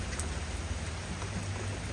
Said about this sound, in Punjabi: ਮੀਂਹ ਦਾ ਨਾਂ ਲਿਆ ਹੋਰ ਆਵਾਜ਼ ਤੇਜ਼ ਹੋ ਗਈ